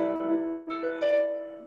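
Keyboard-like instrument sounds a chord voiced with guide tones plus the 13th and 9th, struck and held, then a second voicing rings in brightly, close and clear with no talking over it.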